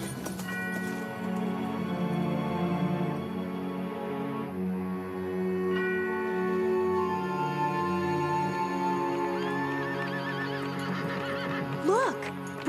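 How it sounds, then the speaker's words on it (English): A horse whinnies near the end, a sharp rising neigh cutting through a bed of sustained music. "Look, Bragan's horse"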